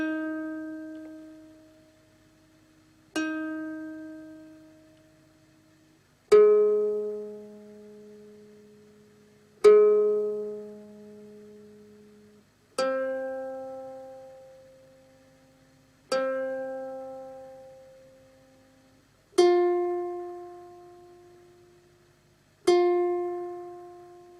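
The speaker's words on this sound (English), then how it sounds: "the strings should sound something like this" Single plucked ukulele strings, tuned down four half steps, ring out one at a time, eight slow notes each left to decay before the next, clear and close.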